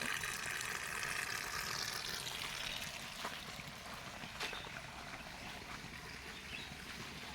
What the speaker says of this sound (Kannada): ಕರೆಂಟ್ ಬಂದಿದೆ, ನೀರು ಹಾಯಿಸ್ತವ್ರೆ